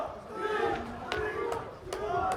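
Fans chanting for a fighter at an MMA bout at Madinti Sporting Club, a sustained crowd roar with rising voices under loud commentator talk throughout.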